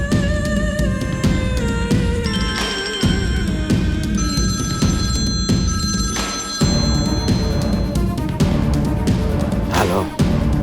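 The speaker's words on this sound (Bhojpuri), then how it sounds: "तू अभी सिद्धार्थ इंस्पेक्टर के फोन लगा।" A telephone rings repeatedly in a Bhojpuri film scene, its trilling ring tone steady and prominent over a background music score, with no speech.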